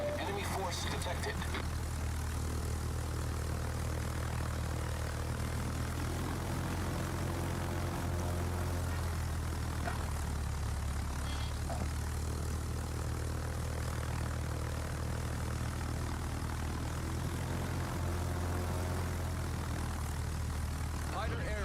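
Fighter plane engines in the World of Warships naval battle game, a steady droning propeller hum under game effects and a talking voice for about twenty seconds.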